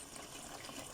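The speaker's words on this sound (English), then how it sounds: "now to this, I'm going to be adding in water" Water pours steadily into a pot of mutton bunny chow gravy with potatoes, a close, continuous gushing splash with no talk over it.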